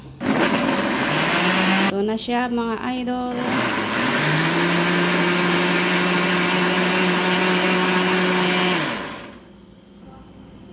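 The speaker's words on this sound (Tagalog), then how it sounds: "Start na po natin ang ating blender." A blender whirs loudly as it purées tomato basil soup with olive oil and chicken broth, its motor pitch climbing then holding steady before cutting off near the end, with a person talking over it.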